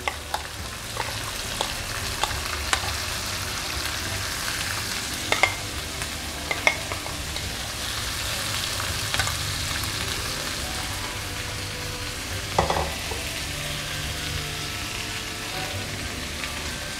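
Eggplant and masala fry in a pan for Hyderabadi baghare baingan, a steady soft sizzle with occasional light stirring clicks and pops throughout.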